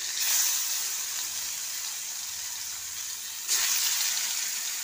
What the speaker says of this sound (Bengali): সামান্য তেল দিয়েছি, খুব সামান্য তেল দিয়ে এটা হালকা করে ভেজে নিচ্ছি।